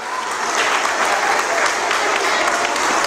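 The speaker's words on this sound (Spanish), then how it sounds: "un aplauso también para ellos" An audience at a school applauding steadily, dense and sustained clapping throughout with no pauses.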